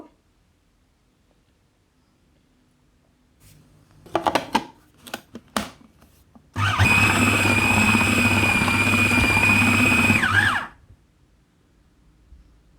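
An electric blender mixes beef stick kebab ingredients with olive oil, a loud steady whirring burst of about four seconds, close, after some clattering as the jar is set in place.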